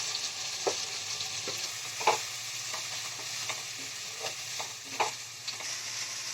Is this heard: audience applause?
no